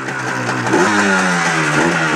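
A Yamaha Banshee ATV engine, cold-started and revved, roars loud and close in a rising and falling buzzy two-stroke drone with no speech.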